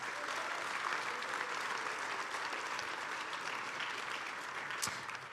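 Audience applause at DrupalCon Atlanta 2025, a steady, dense clapping from a large crowd that holds evenly for several seconds at moderate distance.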